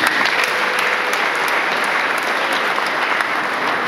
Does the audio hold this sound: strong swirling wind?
no